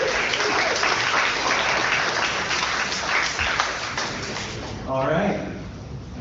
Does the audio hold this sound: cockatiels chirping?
no